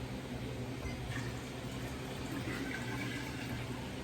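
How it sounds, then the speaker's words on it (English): Water poured from a half-gallon container into a pot of tea, a steady full splashing rush that holds at an even level without pause, close by and with no talk. "I'm gonna add to the tea 1/2 gallon of water."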